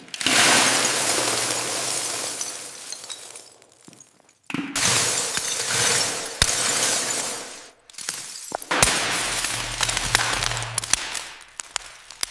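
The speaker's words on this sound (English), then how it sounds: "Smashing mirrors into pieces and laying them on a jet black base." Mirrors smashed into pieces, loud bursts of shattering glass with crashing, tinkling fragments, three long breaking runs split by short pauses and sharp cracks, near and with no talk.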